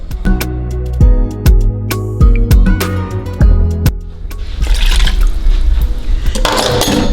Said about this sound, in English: I'm gonna put in water.